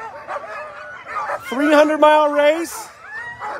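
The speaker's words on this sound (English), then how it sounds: "And as you can tell, the dogs are fired up." Sled dogs at the start of a 300-mile race in Willow, Alaska yelp and howl excitedly in high, drawn-out cries, several overlapping, while someone talks over them.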